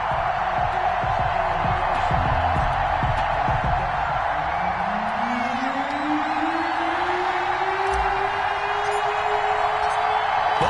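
Home stadium crowd roaring in an EA Sports football game as the Dolphins face the Los Angeles Rams, a dense continuous cheer with whoops and a rising whistle-like tone, under commentator talk.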